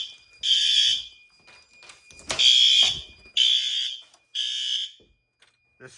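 A fire alarm horn strobe under test sounds four loud, close, harsh buzzing blasts of under a second each with short gaps, a thin steady whine continuing between them.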